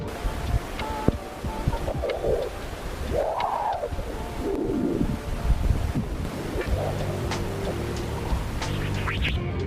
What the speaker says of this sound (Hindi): आपने चहचहाट की ऑडियो सुनी, वो सोलर विंड से निकलने वाली एक खास डिस्पर्सिव वेव्स की निकलने वाली आवाज है